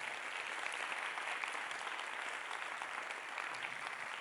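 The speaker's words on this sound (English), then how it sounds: "Can we give them a round of applause," A room of people clapping for panel participants, facilitators and scribes at a borderline personality disorder awareness day event, a steady dense applause held at an even, moderate level throughout.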